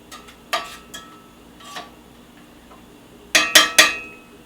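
Shrimp scampi being stirred in a pan, with scattered utensil clinks and taps against the pan, ending in a quick cluster of three sharper scrapes and knocks close by.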